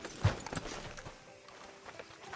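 Horse hooves clip-clop on a town street in Red Dead Redemption 2, a few soft hoof strikes early on, then quieter shuffling over low ambient background.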